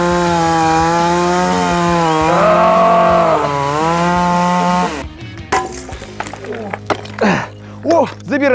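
A loud gasoline chainsaw grinds through a block of ice for about five seconds, its pitch wavering under load, then cuts out and people talk nearby.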